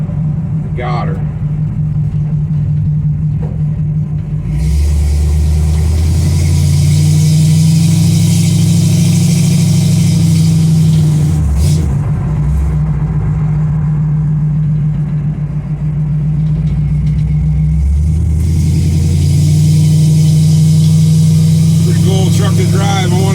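Engine of a 1955 GMC truck rumbling loud and close while driving, a steady low drone that swells as it revs and shifts, with voices talking over it at times.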